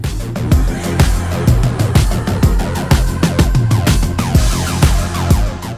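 Air-raid-style siren wails in a remix, woven into a busy electronic track with punchy repeated beats and burbling 303 basslines, loud and continuous throughout.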